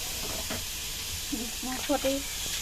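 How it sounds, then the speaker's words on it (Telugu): Onions frying in a pan give off a steady, close sizzling hiss that runs throughout, with faint voiced murmurs rising briefly near the middle. "నేను ఇప్పుడు ఉల్లిపాయ ఫ్రై చేస్తున్నాను"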